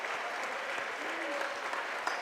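A basketball crowd at a district final cheers and applauds steadily for a player stepping up to take foul shots, a dense, continuous roar of clapping and voices.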